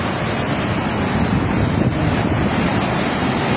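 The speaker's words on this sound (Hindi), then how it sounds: "ये पुल के साथ टकरा रहा है, पुल के ऊपर से भी पानी जा रहा है" Floodwater from the Ravi River crashing against a bridge and pouring over it, a loud, continuous, roaring rush of water mixed with heavy wind buffeting the microphone.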